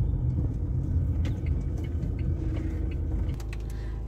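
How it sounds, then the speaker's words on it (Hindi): A car being parked in a crowded spot, its engine a steady close low rumble that drops slightly in level near the end as it settles, with no voices. "और अब पहले करूंगा मैं गाड़ी को पार्क"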